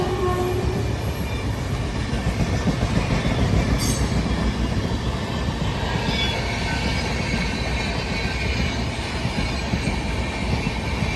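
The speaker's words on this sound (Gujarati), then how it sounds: "ટ્રેન આવે છે." A train rolls past close by with a continuous heavy rumble and rattling wagon clatter, plus a brief high squeal of wheels.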